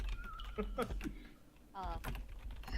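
Loud computer keyboard typing with rapid, clattering keystrokes that run throughout, mixed with overlapping speech-like sounds.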